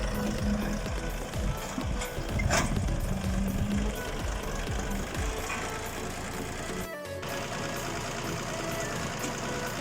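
Tractor engine running while driving to a hay unloading spot on a farm: a loud, rough, knocking diesel drone persists for the whole stretch, with one brief sharp clatter near the end and no talk.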